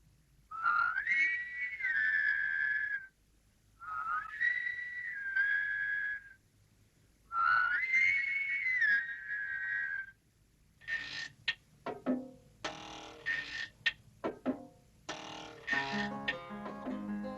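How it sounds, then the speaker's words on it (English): Several characters in the 1966 animated series Camberwick Green whistle a rising melodic phrase in unison, three times with pauses, followed by a busier stretch of mixed, overlapping whistles and chirpy tones. "so many people whistling is sure to work"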